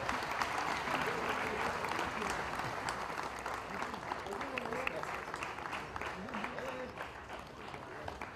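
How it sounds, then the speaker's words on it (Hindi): Loud, sustained applause from a large crowd at a musical night, steady clapping throughout with cheering voices mixed in. "जोरदार तालियों के साथ"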